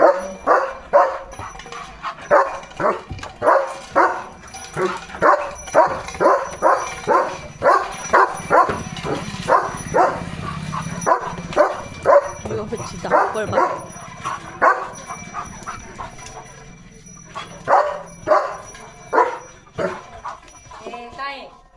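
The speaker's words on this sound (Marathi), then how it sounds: "गुरांना भुंकतो" Leo the dog barks repeatedly at cattle passing along the path, a long steady run of loud, close barks with short pauses, a few louder bursts near the end, and voices in the background.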